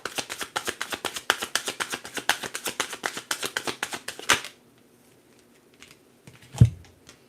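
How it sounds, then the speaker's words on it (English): Tarot cards shuffled and riffled from a deck in a rapid run of crisp flicks and slaps for about four seconds, then near quiet broken by a single soft thump. "Let's pull some cards"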